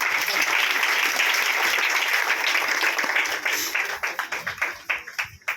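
A church congregation claps steadily together during Sunday worship, dense and loud, then the applause thins into scattered individual claps before fading out.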